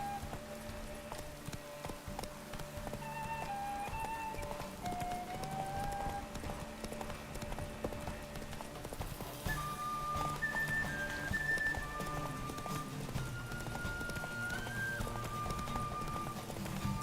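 Horse galloping in The Witcher 3, a steady rhythmic clip-clop of hooves running over a continuous game soundscape with faint whistling tones, no talk.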